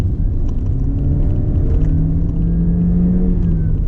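A Honda CR-V 1.5 turbo AWD SUV engine with CVT hums and rumbles steadily under load climbing Genting Hill, the pitch rising gradually, close and fairly loud, with no voices.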